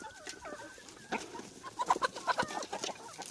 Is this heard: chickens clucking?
yes